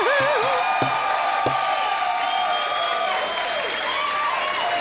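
Studio applause on a Taiwanese radio talk show, steady and continuous for about five seconds, overlaid with whistling tonal sweeps and a few sharp knocks.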